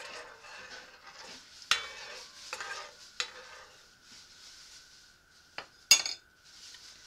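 A spoon stirs soup with lemongrass in a pot of water or chicken broth for egg tinola, with soft scraping and a few sharp clinks of utensil against metal over a quiet simmering hiss.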